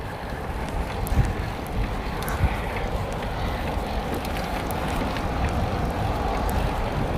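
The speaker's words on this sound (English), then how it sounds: "Wind's right at my face, so it makes it harder to pedal this way" Wind roaring steadily against a cyclist riding a bicycle into a headwind on city streets in Cheyenne, a continuous low buffeting rumble close on the microphone, with no talk over it.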